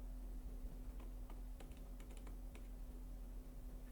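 Typing on a computer keyboard, a short burst of several light, quick key clicks in the middle of a quiet room with a steady low hum underneath, no voices.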